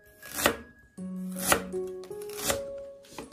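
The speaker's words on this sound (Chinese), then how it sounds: "再改刀切成姜丝" A knife chops peeled ginger on a cutting board, cutting thin slices into fine shreds: three crisp, close strikes spaced about a second apart, with a faint steady tone in the background.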